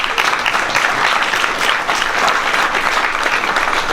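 Audience at a film premiere applauds, a dense, continuous wash of clapping from many hands holding steady for the whole stretch, with no voices on top.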